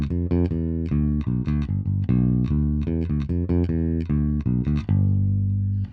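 An electric bass guitar plays a driving rock riff of quick, punchy repeated notes in a steady rhythm, ending on a held low note.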